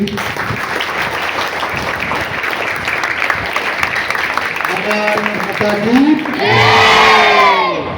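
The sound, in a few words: students applauding trainers at a school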